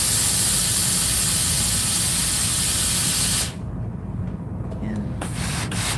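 A loud, steady hiss of steam blasts for a few seconds, then cuts off abruptly, leaving quieter handling noises.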